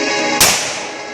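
A single sharp gunshot is fired at tree branches outdoors during makeshift tree trimming. The crack is loud and close, followed by a short fading tail.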